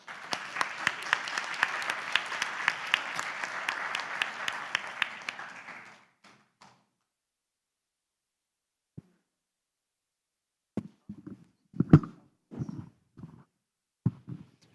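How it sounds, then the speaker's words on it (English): An audience applauds at the end of a panel discussion at a convention. Dense clapping lasts about six seconds and then fades to silence, followed later by a few scattered claps and faint murmurs. "may I ask for another round of applause?"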